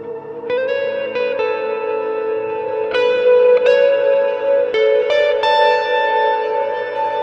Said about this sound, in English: I know that echo is distorted a little bit.